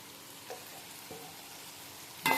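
Chili powder fries in hot oil with a soft, low sizzle, broken by a few faint stirring scrapes and a louder burst of crackle at the end.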